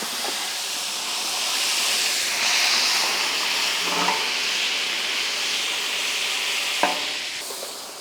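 Whole shahi jeera and cinnamon sticks drop into hot cooking oil in a bowl for Nizami mutton korma, giving a steady loud hiss and sizzle with brief crackling pops and faint stirring, no voices.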